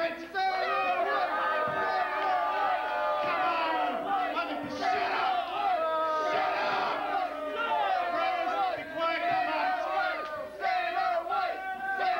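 A wrestling crowd at the CEW Halloween Mayhem 1999 show in the Cornerstone Bar, St. John's, Newfoundland, yells and chants loudly and continuously, a close, packed roar of many voices.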